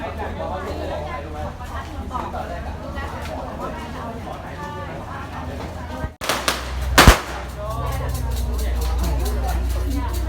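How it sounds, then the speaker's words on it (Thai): Firecrackers set off by worshippers fulfilling vows at Ai Khai shrine, Wat Sala Loi temple, Thailand: a sharp burst of several cracking pops about two-thirds of the way through, rising over steady crowd chatter and outdoor bustle. "ก็จะมีเสียงประทัดอยู่เป็นระยะระยะ นะครับ"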